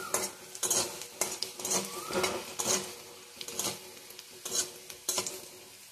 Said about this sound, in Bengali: রসুনটা ভাজা ভাজা করে, বেশিক্ষণ সময় লাগবে না